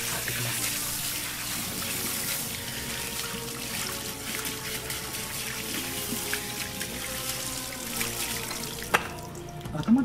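Water running steadily at a barber shop while hair is washed, a close, continuous hiss and splash with small sloshing variations that stops abruptly near the end, followed by a faint clink.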